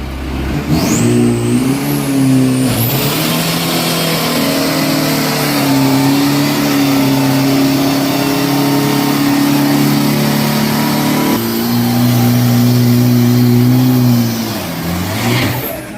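Isuzu 3000 Pro Diesel race truck at a racing event in Thailand, its diesel engine revving loud and close with sustained, rising and falling drones held for the full stretch, no talk over it.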